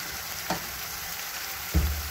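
Chicken curry with turmeric being stirred in a frying pan, a steady soft sizzle broken by two brief scraping stirs, one faint and one louder near the end, with no talking.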